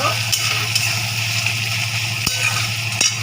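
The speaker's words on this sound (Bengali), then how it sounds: "পেঁয়াজটা আমি লাল লাল করে ভেজে নেব" Onions fry in oil in a pan for a wedding-style katla kalia, a steady close sizzle with occasional scraping stirs and light clinks of a utensil against the pan.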